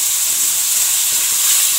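Salted chicken pieces fry in a pan for masala macaroni, giving a loud, steady, close sizzle that holds evenly from start to finish with no voices.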